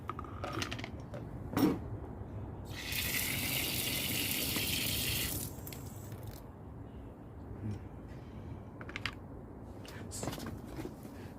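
Water gushes from a thermostatic shower mixer as its water pressure is tested, a loud steady hiss that runs for a few seconds before shutting off, with quieter clicks and handling noise on either side.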